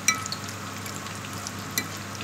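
Cauliflower stems fry in a pan with a steady, close sizzle, broken by a couple of sharper pops and crackles.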